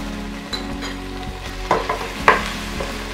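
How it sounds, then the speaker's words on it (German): Vegetables and a heaped spoonful of tomato paste sizzle and fry in a pan for a beef pot roast in red wine sauce, with a steady crackle, stirring scrapes and a few louder clatters, no talk. "Tomatenmark röste ich kurz mit an"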